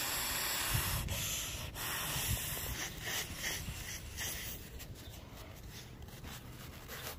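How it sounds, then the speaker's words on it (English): Several breaths blown into the valve of a Klymit self-inflating sleeping pad make a steady, close, breathy rushing hiss that swells and eases over a few seconds. "So we'll just add a couple breaths in there to tighten it up just a little bit."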